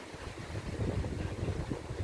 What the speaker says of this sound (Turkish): Şiddetli rüzgar var.